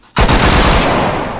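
Automatic gunfire in Arma 3 with JSRS3 Dragonfyre sound mods: a loud burst starts abruptly and carries on as a dense, rapid stream of close shots that rings out without a break.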